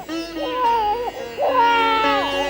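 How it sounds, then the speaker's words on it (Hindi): An infant wailing in a mythological Hindi television drama, with rising and falling high-pitched cries that continue steadily and loudly for the whole stretch. "लग तो ऐसा ही रहा है जैसे कि अपना ही शिशु रो रहा है।"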